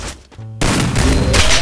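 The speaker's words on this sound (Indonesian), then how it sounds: "Shotgun." A shotgun fires in a mobile battle-royale shooter, a loud broadband blast that cuts in sharply and sustains with rumbling echo, after a brief lull with a low tonal hum.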